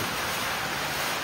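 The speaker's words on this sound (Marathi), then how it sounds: "बेकार पाऊस पडायला आला." Steady, dense hiss of heavy rain pouring continuously, loud and close, with no voices or breaks.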